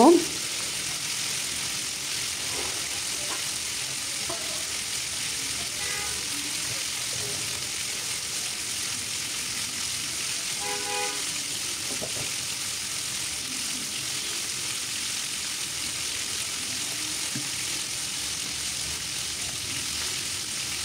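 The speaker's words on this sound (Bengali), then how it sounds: "উল্টে পাল্টে ভেজে তারপরে আমি তুলে নিব।" Chicken frying and being turned over in a pan, a constant close sizzle with occasional soft utensil taps and scraping clinks scattered throughout.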